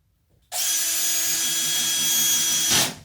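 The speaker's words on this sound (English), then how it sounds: "I'm screwing it in on purpose because it's easy to take off if you need to." A power drill drives screws to fix a Perspex sheet over a window for DIY double glazing. The motor whines in one steady burst of about two seconds, then winds down, close and loud, with no talk.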